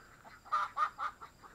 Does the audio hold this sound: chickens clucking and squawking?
yes